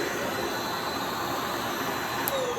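Riccar vacuum cleaners, a Tandem Air Pet and a 14-year-old Radiance, run indoors with a loud, steady whirring roar that holds constant throughout, and no voices are heard.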